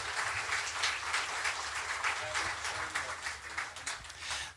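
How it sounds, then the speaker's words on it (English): An audience at a John Knox Village spring show claps steadily in a warm round of applause for a performer, a continuous moderate patter of many hands lasting a few seconds without talk. "Let's give her a nice John Knox Village round of applause."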